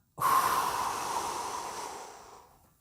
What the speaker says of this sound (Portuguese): Puxou o ar, a costela expandiu, solta todo o ar.